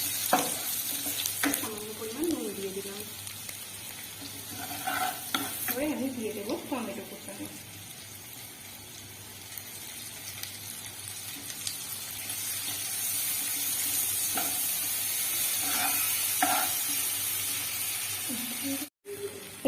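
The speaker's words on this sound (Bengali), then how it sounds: "একটু লাল করে ভেজে নেব পেঁয়াজটা।" Chopped onions frying in oil in a pan give a steady soft sizzle with occasional stirring scrapes, while a person talks intermittently nearby.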